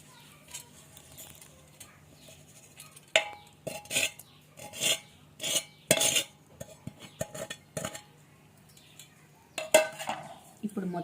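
Mutton pickle being mixed with cooled oil fried with garlic and cumin, a spoon scraping and clinking against a metal pot in a run of short irregular strokes, close and fairly quiet.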